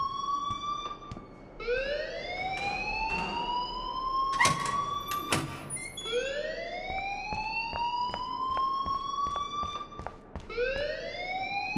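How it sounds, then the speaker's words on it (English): A rising-and-falling electronic alarm wails repeatedly through a school in the game Life Is Strange, loud and continuous, its sweeping tone cycling over and over with brief clicks and bursts layered on top. "please turn off that alarm since that's your job"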